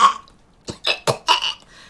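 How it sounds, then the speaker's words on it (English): A person lets out a short series of rough, throaty coughs, four or five close bursts after a brief pause, sounding partly like burps. "No, don't cough."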